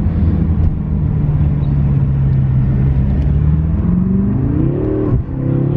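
A loud BMW M5 Competition engine drones steadily, then its pitch climbs as it accelerates hard and shifts, up close and with no speech.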